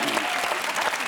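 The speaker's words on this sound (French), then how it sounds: "Bravo, ça s'applaudit." Dense applause from a television talk-show studio audience, steady and close, filling the whole short stretch with no pauses.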